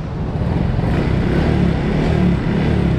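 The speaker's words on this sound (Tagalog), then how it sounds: "Bali Suzuki yung motor." A Suzuki Smash Fi 115 motorcycle engine runs steadily close by, a loud, even mid-range drone with no talk over it.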